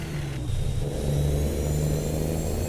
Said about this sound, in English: let you listen to the sounds of this engine, because this sounds so damn good.